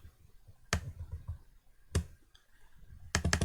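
Sparse computer mouse clicks during work in FreeCAD, a few crisp close clicks spaced apart with a quick cluster at the end over faint room noise.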